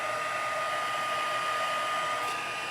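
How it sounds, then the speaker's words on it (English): A handheld craft heat tool blows hot air in one continuous, even whir with a thin high whine, moderately close and steady throughout, with no talking. "And you heat them up with a heat tool, not a blow dryer, not an iron, not your toaster."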